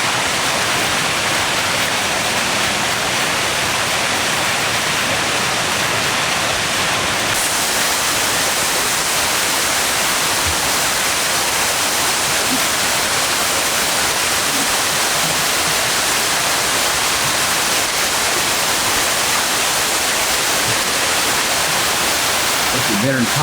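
A small waterfall in a courtyard in Rome gives a steady, loud, broadband rush of falling water that continues unbroken throughout.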